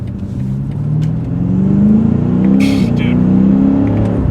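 A BMW M5 CS sedan, a 4,100-pound car, revs hard under acceleration, its engine note climbing steadily and loud throughout, with a brief burst of hiss partway through.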